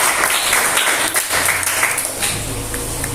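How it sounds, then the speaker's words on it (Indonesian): A class audience claps together in a brief, fairly loud burst of applause lasting a few seconds, with dense overlapping hand claps. "silakan tepuk tangan dulu"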